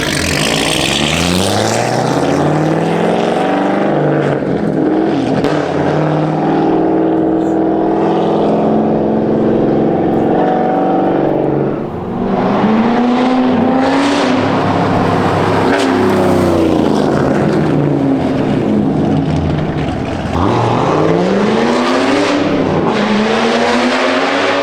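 A loud, throaty straight-piped Corvette Z06 exhaust revs repeatedly nearby, the engine pitch rising and falling in long sweeps.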